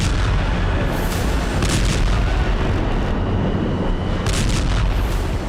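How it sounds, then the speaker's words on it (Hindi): Massive ammonium nitrate blast at the port of Beirut, a loud sustained roaring rumble with heavy low-end thunder and a couple of sharper cracking bursts, filling the whole span. "फिर उसमें आग लग गई, जिसके बाद ऐसा धमाका हुआ जिसने पूरी दुनिया को दहला दिया"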